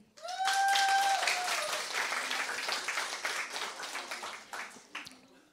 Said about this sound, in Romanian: Cine m-a văzut la televizor să aplaude?